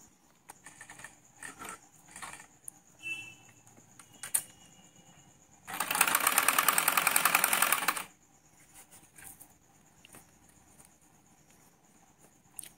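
A sewing machine stitches a bias strip joint in one continuous, rapid whirring run of about two seconds, loud and close, framed by quieter fabric handling and small clicks.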